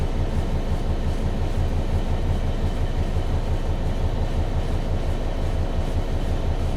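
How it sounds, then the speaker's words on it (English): A London-bound London Northwestern Railway passenger train passes close by a freight train halted at a red signal, a steady, loud rail rumble with wheel noise lasting throughout. "There's a London-bound LNWR train."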